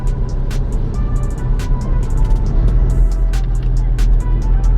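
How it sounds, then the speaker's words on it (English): A car driving in Bangkok hums with a steady low engine and road rumble, overlaid by frequent sharp ticking or clicking sounds, close and loud, with no speech. "And also I'm driving in Bangkok"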